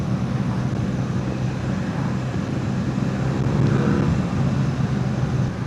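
A BMW R nineT motorcycle cruises along, its engine a steady low drone blended with rushing wind noise throughout, continuous and fairly loud with no talk.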